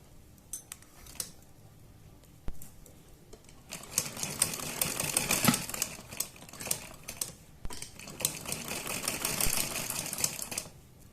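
A sewing machine stitching old saree fabric, quiet intermittent clicking at first, then two sustained runs of rapid mechanical stitching with a steady rattling rhythm, close and moderately loud.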